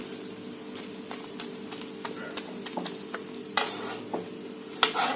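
Omelette frying in butter in a pan, a steady close sizzle with scattered crackles and a few sharper spatters and utensil taps.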